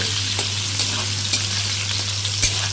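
Ground spice paste frying in a pan with soaked cashews for chana dal, a steady close sizzle with a low hum underneath and a few faint stirring taps.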